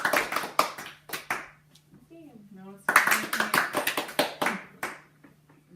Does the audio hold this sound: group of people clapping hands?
yes